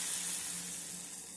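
Mustard seeds, fenugreek and asafoetida tempered in hot oil sizzle steadily as they are poured into omavalli rasam, a dense, close crackle that fades slightly over the short moment with no voices.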